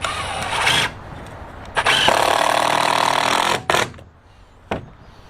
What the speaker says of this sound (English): you start zipping in some screws, such as this